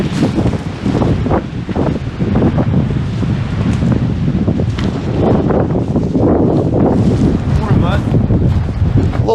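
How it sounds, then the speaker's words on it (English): Heavy wind buffeting the microphone continuously at a wilderness campsite, loud rumbling gusts with some faint talking buried underneath. "A little windy still."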